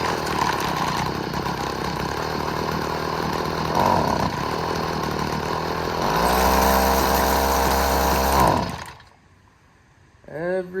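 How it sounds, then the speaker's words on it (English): Old Stihl FS55 string trimmer engine being revived after a carburetor tune-up, running rough at a loud buzzing idle, then revving higher when throttled before sputtering out, followed by a brief restart. "Every time I hit the gas."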